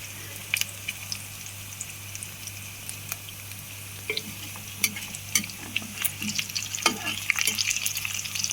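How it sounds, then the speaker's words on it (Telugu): Green chillies and onions fry and get stirred in a pan for upma pesarattu, a soft constant sizzle broken by scattered scrapes and clinks of the spoon that grow busier toward the end, with no voices. "పచ్చిమిర్చి, ఉల్లిపాయలు బాగా వేగాలి."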